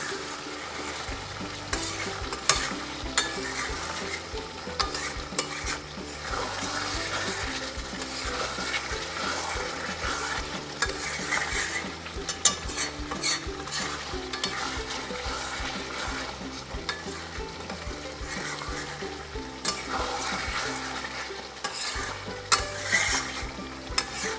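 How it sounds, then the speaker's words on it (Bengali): Mutton curry stirred from bottom to top in a pan over a medium flame, with continuous sizzling and repeated scraping strokes over the whole stretch. "এবার আবার এটাকে খুব ভালো করে এভাবে নিচ থেকে ওপরে এইভাবে নাড়তে হবে"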